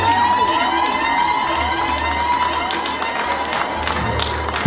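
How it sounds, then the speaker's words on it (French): At a New Year's Eve gala evening, a lively crowd cheers loudly, with sustained shouts and whoops rising and falling over scattered clapping for several seconds. "On applaudit, mesdames et messieurs."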